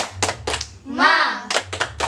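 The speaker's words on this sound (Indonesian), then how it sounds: "Kita melakukan tepuk semangat ya." Elementary class in an Indonesian classroom performs a rhythmic spirit clap, sharp bursts of group clapping alternating with children's voices chanting in unison, close and lively.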